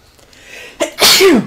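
One sharp human sneeze, a brief intake followed by a loud, explosive burst close to the microphone, heard during a Metroid: Other M gameplay session.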